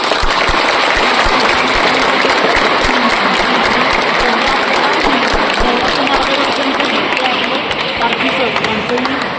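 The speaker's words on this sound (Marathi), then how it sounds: "यांच्यासाठी एक जोरदार टाळ्या झाल्या पाहिजे" A crowd at a Yoga Day event held by the BJP city unit claps in sustained, dense applause that fills the space, steady and loud from start to finish.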